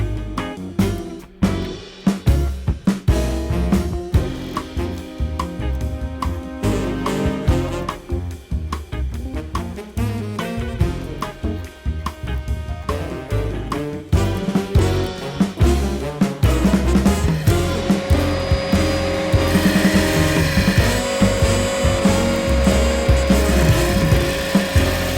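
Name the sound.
disc sander flattening a copper-damascus gyuto knife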